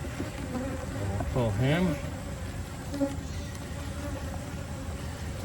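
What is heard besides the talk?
honey bees buzzing during a hive inspection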